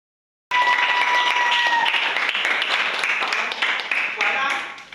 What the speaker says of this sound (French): Est-ce que vous ne pouvez pas applaudir ça?